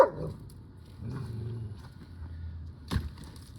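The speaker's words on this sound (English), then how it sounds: "For those who get anxious because Copper's barking, he just plays loud." Copper the dog barks and growls loudly while playing outdoors, with one sharp bark at the start, a rough growling stretch in the middle and another short bark near the end.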